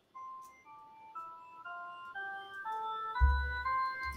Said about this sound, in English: if I wanted to hear what that sounds like as a drawbar organ